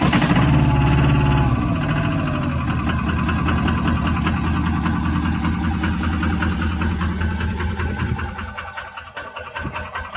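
A Chinese mini excavator's engine runs steadily at idle with the throttle set about halfway, a loud continuous mechanical drone that drops off near the end.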